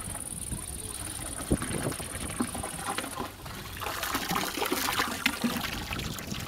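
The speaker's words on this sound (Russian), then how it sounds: "Сейчас вода пройдет по шлангу" Water runs and trickles through a hose drawn from a well, a soft, uneven gurgling and splashing with faint background noise.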